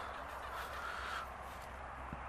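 Chickens kept in a 10 by 10 dog kennel outdoors in winter give soft, drawn-out clucks and murmurs over a constant low background rumble, faint and fairly distant, with no talking.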